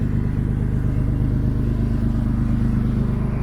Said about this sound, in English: Sounds like a normal car now.